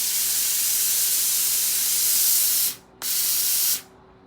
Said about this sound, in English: buttons on either side of the iron that will make the steam come out as well